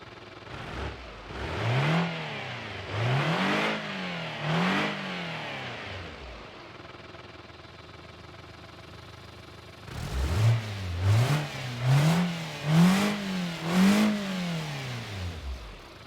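A BMW E36 with an M40 engine revs repeatedly in short bursts, rising and falling, then idles quietly before another series of revs, heard up close.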